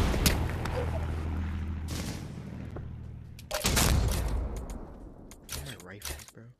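Rifle fire in the VR shooter Pavlov, with loud sharp gunshot bursts and rattling volleys, a heavy blast midway, and scattered trailing shots with echoing tails, close and dominant.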